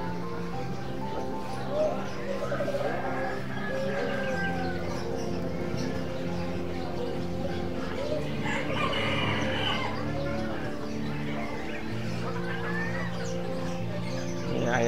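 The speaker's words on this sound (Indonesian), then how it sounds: "Ayam." Chickens at an animal market in Yogyakarta, with a rooster crowing several times amid steady clucking and other bird chirps, set in busy ambient market noise.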